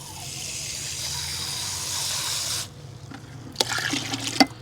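Water runs steadily into a clear plastic bucket at close range for a few seconds, then the flow cuts off, leaving light sloshing and clunks alone.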